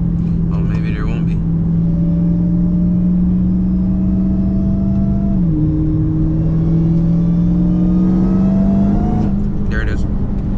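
Dodge Hellcat engine droning steadily at speed during a night drive, its pitch rising gradually, dipping briefly, then climbing again, loud and constant, with voices speaking briefly over it.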